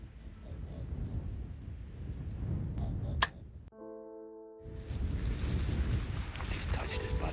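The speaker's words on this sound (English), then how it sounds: "the wind never stops blowing" Strong wind blowing outdoors in Newfoundland during a caribou hunt, a loud continuous rushing buffet against the microphone that drops out briefly midway, then returns just as strong.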